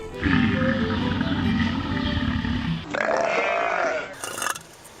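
A cow lets out a deep, drawn-out burp, loud and close, rumbling for a few seconds before ending in a higher, raspier tail.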